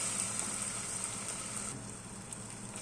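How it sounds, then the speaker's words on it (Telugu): Ginger and garlic paste frying in a pan with curry leaves for a prawn and raw mango curry, a steady, hissing sizzle that continues evenly throughout without talk. "అల్లం పేస్ట్, తెల్లగడ్డ పేస్ట్ కూడా కొద్దిసేపు వేపుకొని"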